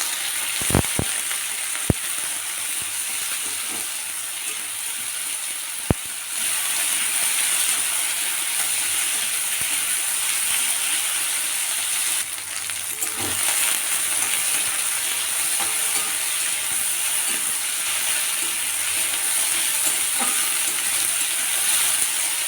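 Chopped vegetables sizzle in hot oil in a kadai for pasta, making a continuous hissing fry with occasional sharp clicks and clatter of utensils nearby.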